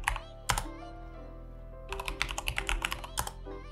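Commands are typed on a computer keyboard in a terminal, with one isolated keystroke followed by a quick burst of clicking keys, close and fairly quiet.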